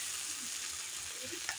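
Water poured into a pan of frying onion, garlic, ginger, potato, pointed gourd and pumpkin sets off a low, steady hiss and bubbling, quiet and close, with a faint tap at the end.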